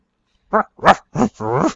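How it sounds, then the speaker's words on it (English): A dog in the Neverwinter video game gives a string of four short whining, yipping cries in quick succession, close and clear with no talk over them. "Oh, there's a dog here."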